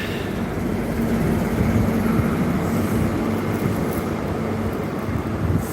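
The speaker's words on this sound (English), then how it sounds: "another train passing through." A Class 43 diesel train rumbles past close by, a steady heavy roar with engine drone and some wind buffeting, no voices.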